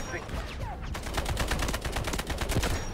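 A G3 rifle fires in the Delta Force shooter game: a rapid, steady string of loud, close gunshots lasting about two seconds after a brief quieter lead-in.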